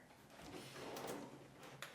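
A kitchen drawer slides open quietly, a soft rolling rumble with faint clicks and a light knock near the end, heard close in a quiet room.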